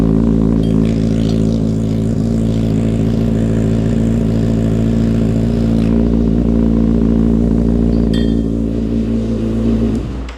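A 2026 Kawasaki ZX-6R fitted with an M4 slip-on exhaust held at high revs, a loud, close, deep buzzing drone sustained for about ten seconds before cutting off at the end.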